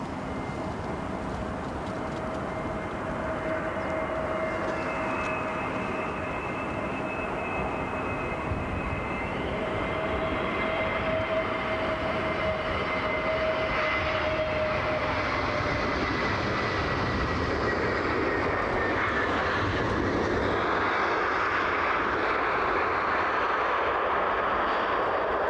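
Brussels Airlines Airbus A320neo at Brussels Airport, a loud, sustained jet engine roar with whining tones that shift in pitch as the aircraft passes and the noise broadens toward the end, no talking.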